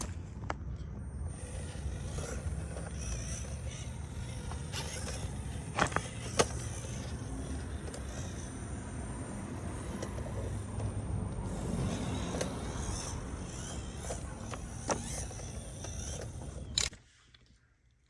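An FMS LC80 RC car fitted with FCX24 portal axles runs a speed test, a faint steady electric motor whine with gear whir and tire noise lasting a long stretch before cutting off abruptly.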